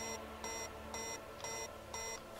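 An alarm in the video game Factorio beeps in a steady, evenly spaced pattern of five bright tones, each about a quarter second long, over a low factory hum.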